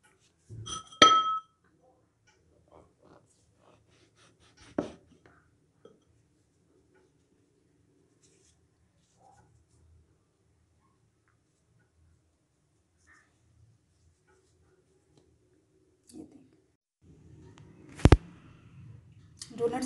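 A glass and the back of a piping nozzle press through donut dough, giving a few sharp clinks and taps separated by long quiet gaps, with a cluster of knocks near the end.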